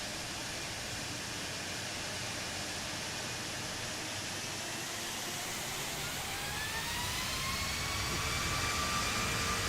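Airbus A340-600 jet engines in X-Plane 12 spool up for takeoff, a steady broad roar that builds slowly with rising whine tones toward the end, loud and continuous without talk.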